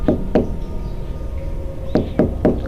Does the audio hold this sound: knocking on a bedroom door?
yes